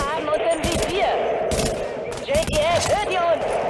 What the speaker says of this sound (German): Beschuss durch leichte Waffen.